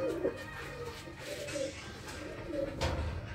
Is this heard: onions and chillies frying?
no